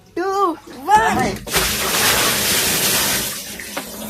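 Water splashes loudly around a person sitting in a water tank, with a sustained churning wash after a voice speaks at the start.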